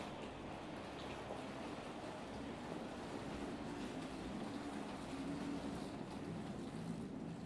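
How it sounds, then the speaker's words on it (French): A Corail Intercité train pulling into a station platform, a steady low rumble and rolling hiss at moderate distance, continuous without distinct pauses. "Le train corail Intercité numéro 4805 en provenance d'Orléans entrera en gare, voie 6."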